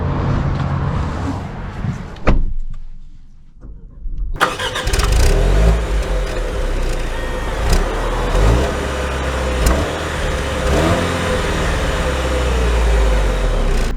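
The engine of a 2024 Jaguar F-Pace SUV cranks and fires after a brief silence, then settles into a loud, steady idle with a low rumble and a few mild revs, heard from close by.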